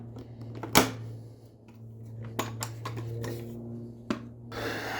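Bolts being tightened on a Sur-Ron electric dirt bike's battery lid: scattered metallic clicks and clanks of tools and hardware over a steady low hum, with a few sharper knocks spaced across the clip.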